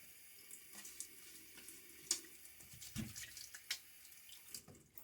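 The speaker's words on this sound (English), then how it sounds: "And a little splash of water." A faucet runs and water splashes into a sink, with a few sharper drips and knocks over a quiet flowing hiss.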